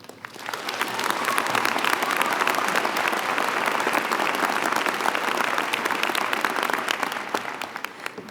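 An audience at an art and design college commencement ceremony breaks into sustained applause to welcome a student speaker, a dense steady clapping that swells quickly, holds for several seconds and then tapers.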